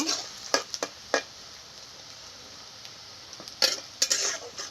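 Bay leaf, onion and garam masala frying in a pan, with a steady hiss of sizzling oil and several sharp clinks and scrapes of a utensil stirring against the pan at irregular intervals.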